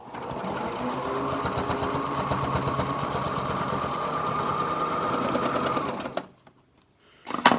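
A sewing machine tacks down the pleats of a fabric mask, running continuously and loud for about six seconds with a rapid, even needle rhythm, then stops; brief handling clatter follows.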